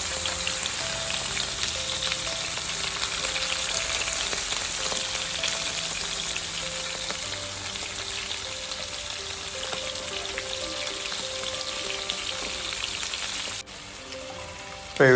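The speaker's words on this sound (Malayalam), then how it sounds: "നമുക്ക് മീനെല്ലാം ഫ്രൈ ചെയ്തെടുക്കാം" White pomfret (aoli) fish frying in masala in a pan, a steady dense crackling sizzle that runs continuously without pause, then drops off abruptly near the end.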